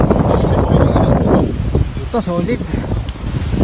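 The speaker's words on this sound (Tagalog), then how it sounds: "Taas ang hangin." Strong wind gusting on a mountain summit, a loud low roar buffeting the microphone that eases partway through as a person speaks close by.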